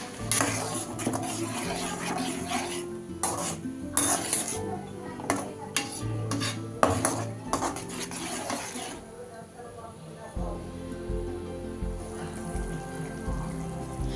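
A spoon stirs yogurt into egg dum biryani masala in a pot, with close metallic clinks and scrapes coming in uneven bursts, then a quieter stretch of soft stirring near the end.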